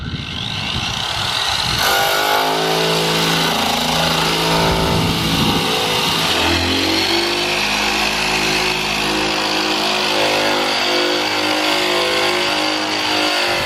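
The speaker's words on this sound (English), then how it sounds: "This is a drum sander from Eastwood, and it's just eating right through the paint." An Eastwood drum sander strips paint from a Ferrari body down to bare metal, its motor running as a loud, sustained whine and grinding roar that holds steady throughout, with a rising pitch shift partway through.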